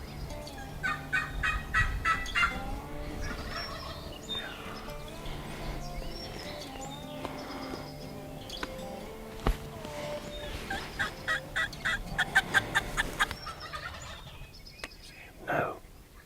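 Turkeys gobble repeatedly in bursts, some fairly close and others farther off, over a steady background of wind and outdoor noise.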